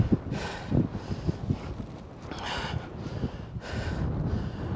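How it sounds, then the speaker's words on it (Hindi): Strong, cold mountain gusts at Rohtang Pass near Manali blasting past in repeated surges, rising and falling every second or so, loud and close with no speech. "बहुत तेज़ हवा चल रही है"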